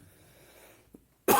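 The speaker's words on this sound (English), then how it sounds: "Pardon my coughing, I'm gonna cough again." A single sharp, loud cough bursts out after a quiet stretch, preceded by a faint soft throat sound.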